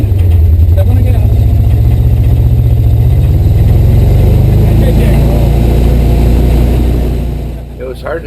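Yellow Jeep engine revving hard while pushing through bumper-deep snow off-road, a loud close low roar climbing in pitch, then easing off near the end.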